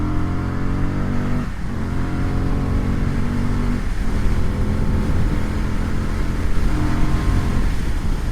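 A 2023 Triumph FTR 1200 motorcycle, freshly serviced at 500 miles, rumbles steadily while riding, its engine note dipping briefly at a couple of gear changes before pulling again, loud and close with no voices over it.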